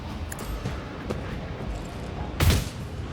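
Gunfire in the Warhammer 40,000 game Rogue Trader during a fight in a monastery: a few scattered shots, then one louder, heavier boom near the end, over a low ambient game rumble.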